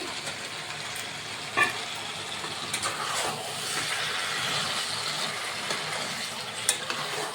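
Meat fries in a pan and is stirred, giving a continuous crackling sizzle with occasional scraping knocks of the spoon against the pan, close up and with no talking.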